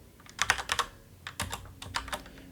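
Close, crisp keystrokes on a computer keyboard come in two quick bursts of typing separated by a short pause, with no voices.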